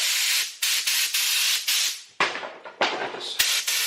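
Air spray gun spraying paint at 30 psi while painting a Jensen hood, loud close bursts of hissing spray in repeated trigger pulls of varying length, with abrupt starts and stops.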